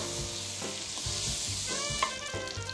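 Apple pieces fry in butter in a pan for a pancake filling, giving a steady close sizzle with soft stirring and scraping and no talk.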